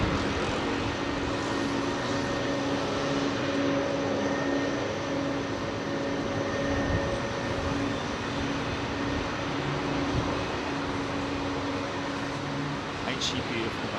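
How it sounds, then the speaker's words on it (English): An A321 airliner idling near runway 27R at London Heathrow, holding for an intersection departure: a steady, continuous jet engine drone with a constant hum runs throughout, fairly distant and unchanging, under a faint outdoor background. "We've got an aircraft, also single aisle A321, sitting there waiting for an intersect departure."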